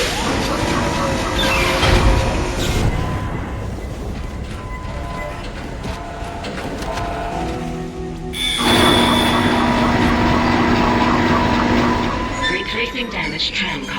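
A damaged tram car in the Dead Space video game rumbles and grinds along its tracks, loud and metallic, with a sharp surge partway through and a voice speaking over the noise.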